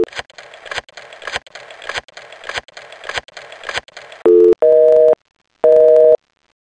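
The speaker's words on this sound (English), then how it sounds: "The line's busy." A telephone busy signal in a PC detective game, heard after a stretch of muffled beeping as a loud, steady tone pulsing on and off in three clear bursts with silent gaps, with no talking.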